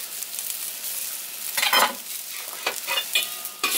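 Green onion bottoms sizzle in a hot pan while being stirred, a steady frying hiss punctuated by a few brighter scraping bursts from the utensil near the end.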